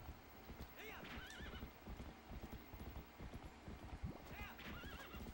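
A horse in the game The Legend of Zelda: Twilight Princess, with busy clip-clopping hooves throughout, two clear whinnies rising above the galloping, and a loud, close, continuous sound under a faint bed of game noise.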